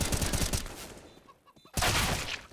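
A burst of gunfire rings out in a Counter-Strike match on the Inferno map, a loud rattling volley, then a brief lull and another sharp burst, with faint commentary underneath.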